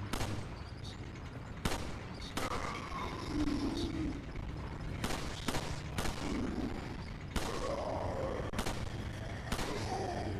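Gunfire in the GameCube version of Resident Evil 4: sharp single shots ring out at irregular intervals over a dim game ambience, with occasional faint voices in the background.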